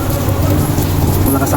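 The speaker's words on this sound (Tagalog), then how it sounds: "Malakas ang ulan." Heavy rain pounding during stormy weather on a fishing trip, a loud, dense, continuous roar close by, with a voice faintly present underneath.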